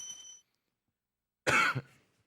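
A single short cough, close and fairly loud, with a brief throat-clearing tail, following a moment of silence after faint background sound.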